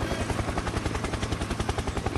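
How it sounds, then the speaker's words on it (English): A helicopter's rotor thumps rapidly and evenly, a loud continuous chopping throb close by. "Helicopter, helicopter."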